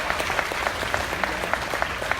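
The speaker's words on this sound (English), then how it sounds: "please give all of our champion market goat showmen a huge round of applause" A crowd at a livestock show applauds the champion market goat showmen, steady dense clapping heard from a middle distance with no talk over it.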